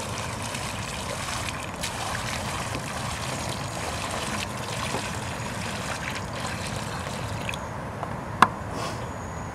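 Water is poured into a small soil basin around a freshly planted bare root rose, a soft, steady trickle and splash that stays quiet and even throughout, ending with a single faint click.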